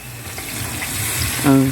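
Water from a tap runs and gushes steadily into a cooking pan while bihon noodles with carrots are being prepared, a close, continuous pour that swells louder near the end.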